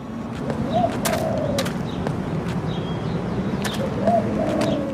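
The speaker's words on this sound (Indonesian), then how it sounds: "di beberapa tempat akan terdapat suara burung tekukur" Spotted dove (tekukur) cooing in an Android horror game, two soft rolling coo phrases a few seconds apart over a steady low ambient drone, with faint clicks and no talking.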